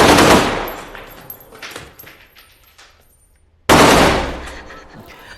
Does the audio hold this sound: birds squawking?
no